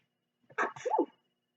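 A single sharp sneeze, close and fairly loud, a quick burst of breath followed by a brief voiced tail.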